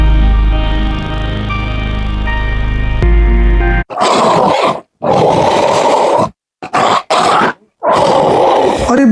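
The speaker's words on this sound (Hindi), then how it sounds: "बाप रे, इतना बड़ा बाघ, ये यहाँ कहाँ से आ गया?" A large tiger roars in a cartoon story set in a rural Indian village, several loud growling roar bursts separated by short gaps, following a sustained musical drone.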